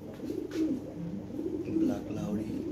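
Lahori pigeons coo in low, rolling, repeated calls close by, with someone talking over them throughout.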